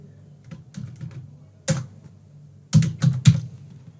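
Fingers tap out a few short bursts of keystrokes on a computer keyboard while entering a user's first name into a WordPress registration form, close and crisp with pauses between clusters.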